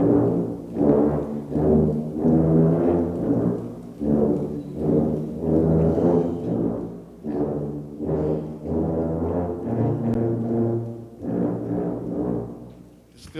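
A middle school band's tuba ensemble plays a rhythmic piece in deep brass tones at a concert, with steady repeated phrases, short pauses and a fuller swell toward the end.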